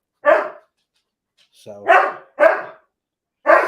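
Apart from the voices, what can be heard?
dog barking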